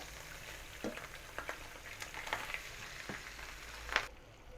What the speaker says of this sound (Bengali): তেলটা কিন্তু প্রচুর গরম, মাছগুলো দিয়ে দিচ্ছি অল্প অল্প করে